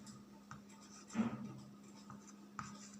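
Pen or chalk writing by hand during a Class 10 statistics maths lesson, faint scratchy strokes with one brief louder scrawl in the middle, over a quiet steady hum.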